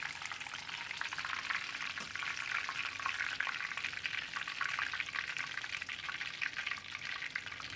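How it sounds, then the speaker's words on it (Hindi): Curry leaves frying in hot oil in a kitchen pan, a continuous soft sizzle and crackle with scattered pops, steady and fairly quiet, no voices. "यहाँ पे मैंने कड़ी पत्ता लिया है, इसे भी फ्राई करना है।"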